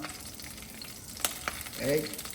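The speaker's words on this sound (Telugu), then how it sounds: "ఇది అవుతున్న దాంట్లో గ్యాప్లో పచ్చిమిర్చి వేసేద్దాం." Green chillies sizzle in a frying pan as a short, steady crackle with a few sharp pops and a brief surge of louder frying near the end.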